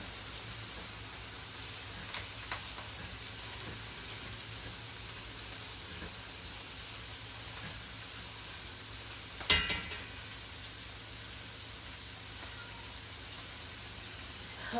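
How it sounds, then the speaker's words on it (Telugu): Curry leaves fry in oil for broccoli upma, a steady, even sizzle that hisses continuously like light rain, with a single sharp clink partway through, close and moderately quiet, no talking. "ఇవి మంచిగా వేగుతున్నాయి కదా"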